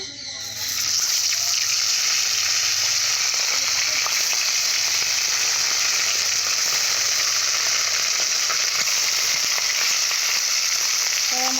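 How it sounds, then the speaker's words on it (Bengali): Fish coated in turmeric and salt frying in hot oil, a steady close sizzle with bright crackle running the whole time after a brief quiet start, with faint occasional clatter. "হলুদ আর লবণ দিয়ে মাছগুলো ভেজে নেব"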